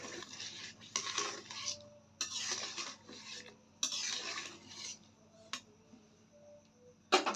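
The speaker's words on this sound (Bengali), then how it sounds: "একটু নাড়াচাড়া দিয়ে দিব।" Gulab jamun sweets made from powdered milk and semolina stirred in sugar syrup, a series of soft scraping and clinking spoon-on-pot strokes in irregular bursts, close and fairly quiet, with no talking.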